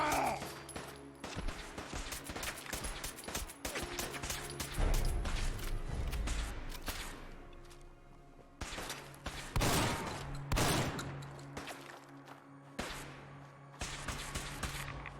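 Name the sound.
gunfire in the video game Fallout 4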